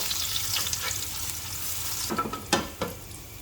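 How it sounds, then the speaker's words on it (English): Carrots, raisins and cashew nuts fry together in a pot of hot oil for mutton kabsa, a steady close sizzle with a few sharp stirring scrapes near the end. "Now you will add few raisins and few cashew nuts and fry all this together."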